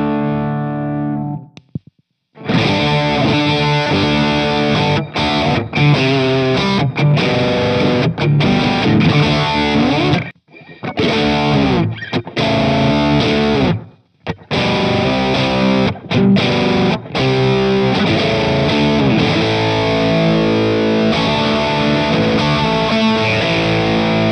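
A Cachalote Console preamp puts out heavily distorted, effects-laden guitar tones in strummed chords with brief gaps between phrases. The sound is loud, dense and played alone with no talking.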